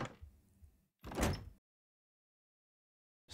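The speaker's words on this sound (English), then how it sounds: "Door sounds." Game door sound effect from a Godot project: a short sliding, thudding open-or-close burst after a brief rumble, heard alone and up close, followed by silence.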